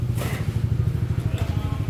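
Suzuki Raider FI motorcycle engine with a seized, stuck-up engine and suspected failed pin bearing, running with a close, loud, rapid low-pitched pulsing throb and a raspy clatter above it, steady throughout.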